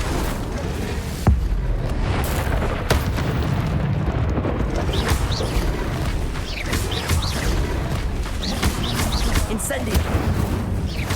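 Fiery spell blasts from the Hogwarts Legacy video game, a dense run of booming, crackling impacts with no break between them, loud and close over a constant rumbling game backdrop.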